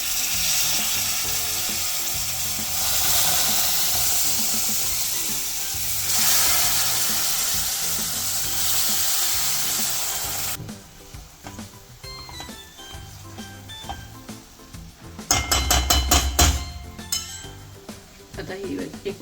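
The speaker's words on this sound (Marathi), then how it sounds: "यात आता हे दूध आणि पाणी घालून घेऊया।" Milk and water poured onto roasted semolina in a hot pan for sheera prasad give a loud, steady sizzle for several seconds. Sharper clinks and clatters of the utensil against the pan follow near the end.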